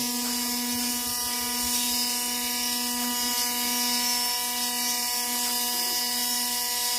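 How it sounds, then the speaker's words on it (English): A loud Dremel rotary tool grinds a dog's nails at close range, a steady high whine with a strong constant pitch and harmonics that runs the whole time, unbroken and with no talk. "this Dremel's loud, but the sound isn't what's hurting her"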